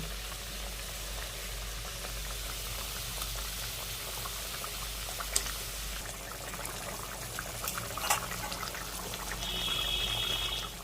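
Coriander gravy for Bhola fish curry boils in a pan, a faint, steady bubbling simmer with a soft continuous hiss and a few louder pops and clinks.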